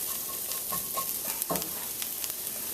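Curry okra with pepper sizzles faintly in a frying pan while a utensil stirs it, giving soft scraping strokes and light crackles over a steady frying hiss.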